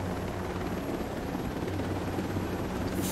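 Helicopter rotor and turbine drone from Ghost Recon Breakpoint, a steady loud continuous whir with deep low thrum throughout, no voices.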